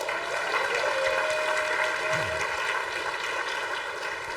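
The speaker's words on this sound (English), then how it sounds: "you can clap" Steady applause from a crowd fills the space, a dense continuous patter of many hands clapping at even loudness throughout.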